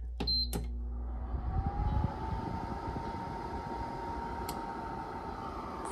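An older Lasko Motion Heat fan heater kicks on at its high setting: a couple of sharp clicks, then a steady, fairly loud rushing whoosh with a faint constant hum underneath.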